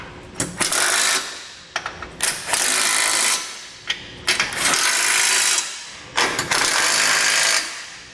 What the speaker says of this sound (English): I'll use a 17mm socket to snug down the hardware here on the front first.